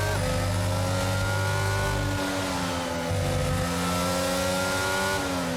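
A Formula 1 car in the F1 22 video game crossing the finish line at the Hungary circuit, its engine a loud, steady high-pitched whine holding near constant pitch before easing slightly at the end.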